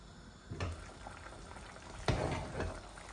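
Pabda fish curry with mustard paste comes to a boil in a pan over a medium gas flame, giving a soft, low bubbling and a few faint pops, quiet with no talk.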